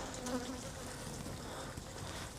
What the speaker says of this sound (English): There's a few bees poking around